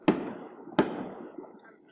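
Fireworks go off outside, two sharp booming bangs followed by a fainter third one, each leaving a short rumbling tail, muffled as if heard from indoors.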